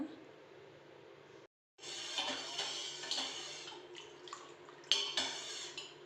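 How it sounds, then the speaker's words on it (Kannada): Water splashes and gurgles into a pot of tomato rasam after a brief silence, pouring steadily with a few clinks of the vessel, nobody speaking. "ಇದಕ್ಕೆ ನೀರು ಹಾಕ್ಕೊಂಡು ಕುದಿಯಕ್ಕೆ ಇಡೋಣ"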